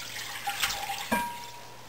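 A short, soft pour of warm milk mixture splashing into a bowl, with a brief gurgle partway through and no voices.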